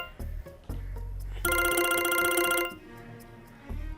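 A telephone bell rings in one bright, rapid burst of about a second, surrounded by dull low thumps and quiet background.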